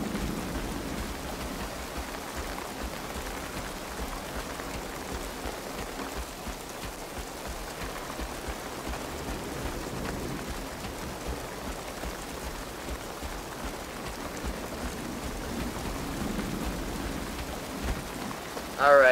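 Steady rain with distant thunder rumbling in the video game Pid, a dense continuous wash of falling water that fills the whole scene at an even, fairly loud level with no break.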